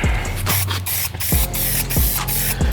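Aerosol spray paint hissing out in light coats onto Camaro headlights, several short bursts separated by brief pauses, loud and close.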